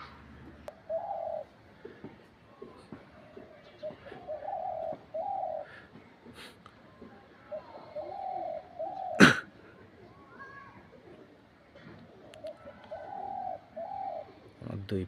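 A pigeon or dove coos outdoors in soft repeated phrases, fairly quiet and near, with light background noise and one sharp knock partway through.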